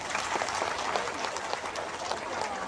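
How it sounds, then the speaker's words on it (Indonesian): Applause from a gathered audience at a mosque event honouring an official, a steady wash of many hands clapping at moderate loudness throughout, with no speech over it. "tepuk tangan untuk beliau."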